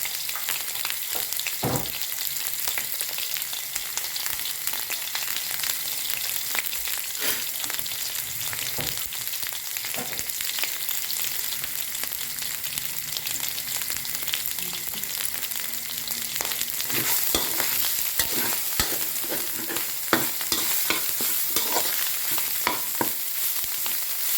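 Chili paste stir-fried in coconut milk for a Thai curry with pork and sweet potato, a steady close sizzle and bubbling with repeated scraping stirs throughout, no talking.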